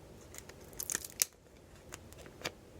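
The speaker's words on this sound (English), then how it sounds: "this tape that's holding it down is really sticky, and I feel like it's pulling up some of the stickers" Sticky tape is peeled off a package, pulling up stickers with it, heard as faint, close crackly tearing and crinkling bursts at irregular moments.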